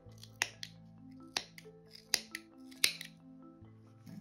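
Scissors cutting yarn for a crochet amigurumi bear's scarf, several crisp close snips spaced irregularly with soft handling sounds between, no talking.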